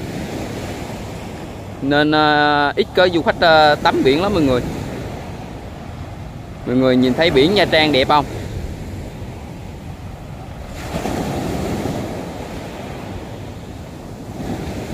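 Large waves break and surge along the beach at Nha Trang, a continuous roar of surf mixed with wind buffeting the mic, while someone talks over it in Vietnamese at intervals.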